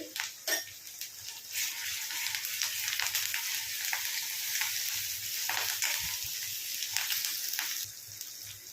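Ginger, garlic and onion fry in a pan for brinjal curry, a loud, steady hissing sizzle with occasional stirring scrapes throughout.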